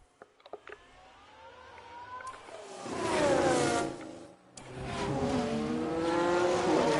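A race car spinning out during a replay in the F1 Manager 22 video game, with engine whine rising and sweeping in pitch, dropping briefly, then roaring again, moderately loud and heard alone.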